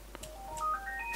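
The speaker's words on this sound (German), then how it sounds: "Jetzt klingelt das Telefon." A telephone rings in a short electronic melody of rising tones, fairly soft and clean, with no talk over it.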